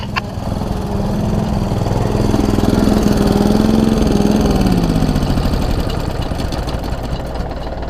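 An air compressor's motor chugs loudly and steadily nearby while pipes are blown out, a rough, engine-like drone that rises slightly mid-run and holds, with no speech.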